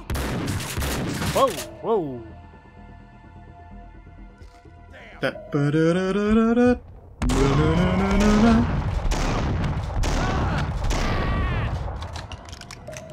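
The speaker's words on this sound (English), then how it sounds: "God, that shotgun is amazing in standing bullet time." Shotgun fire in Max Payne 2 during bullet time, several heavy booming blasts with slowed, drawn-out mechanical clatter and creaks between them, loud and close, alongside a voice exclaiming and music.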